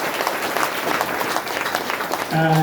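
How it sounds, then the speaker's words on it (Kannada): An audience at a folk drama performance breaks into loud, sustained applause, dense clapping from a crowd close by, ending with a brief tonal sound as it continues. "ಅದಕ್ಕೆ ಆಕೆಗೆ ಮತ್ತೊಮ್ಮೆ ನೀವು ಜೋರು ಚಪ್ಪಾಳೆ ಹೊಡೆದ್ರೆ ಸಾಕು"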